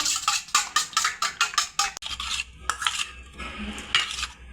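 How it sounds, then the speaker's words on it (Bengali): A spoon beats an egg with salt and turmeric in a bowl, quick rhythmic clinks against the sides, then looser, irregular stirring scrapes, close and fairly loud. "তো এবার আমি ডিমটাকে গুলে নেব।"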